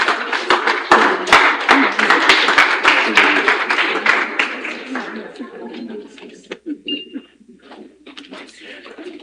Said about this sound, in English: So let me make welcome Mazi Ihain Boko with a standing ovation if we can